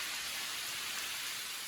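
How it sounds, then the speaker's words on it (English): Heavy rain pours down outdoors over a hillside field, a dense, steady hiss of water with no breaks, fairly loud and uniform throughout. "as it becomes a downpour"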